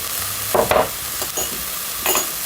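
Soybean sprouts stir-fried with minced garlic in a pan, with a few short bursts of scraping and tossing over a sizzle, heard close with no voices.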